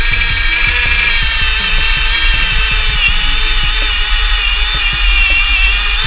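A loud power drill whines steadily as it bores through a wooden beam, its motor droning at close range without pause.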